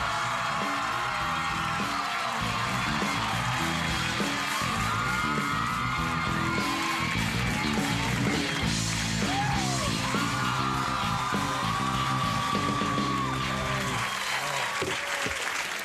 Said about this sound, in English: They're screaming for you.